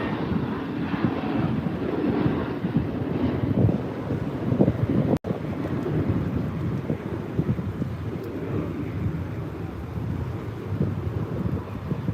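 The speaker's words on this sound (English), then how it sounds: "Okay, that was an Embraer E175 United." A United Embraer E175 airliner passing at LAX, a broad rushing roar heard over heavy wind buffeting on the microphone, with a brief dropout partway through.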